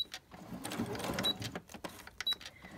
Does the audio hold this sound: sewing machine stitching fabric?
yes